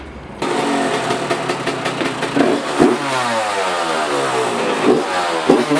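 A motorcycle engine starts up, then idles and revs loudly close by, with the revs rising and falling steadily throughout.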